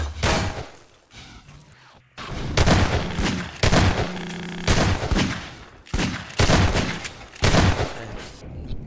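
Shotgun blasts in a Half-Life 2 Deathmatch match, a rapid series of loud, booming shots, several overlapping, with short pauses between bursts and gameplay noise running underneath.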